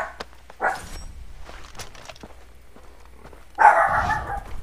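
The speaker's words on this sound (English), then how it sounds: "I do apologize about my dog." A pet dog barks during Far Cry 3 gameplay, a short bark early on and then a louder, longer burst of barking near the end over quiet game audio.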